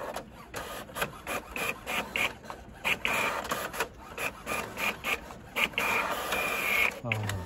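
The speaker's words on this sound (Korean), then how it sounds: "호환 드라이버로 인쇄 명령했습니다" An HP OfficeJet 9010 inkjet printer runs a multi-page job, giving rhythmic mechanical pulses of paper feeding and print-head travel with whirring and clicks, close and fairly loud for several seconds; a voice speaks faintly underneath.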